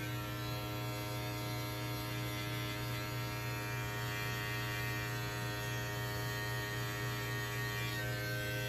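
Electric hair clippers run during a haircut, a steady close buzzing hum that holds constant throughout with no voices.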